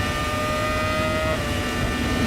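A 2008 Formula 1 car races down the main straight at the Australian Grand Prix, its engine a steady, loud, high-pitched whine with a constant roar that holds without a break throughout.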